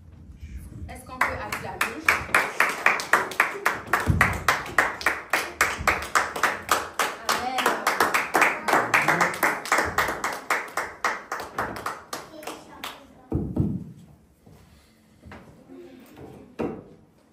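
A church congregation breaks into rhythmic clapping that builds into a steady, loud beat for about twelve seconds, then fades into scattered claps and crowd murmur, with voices mixed in.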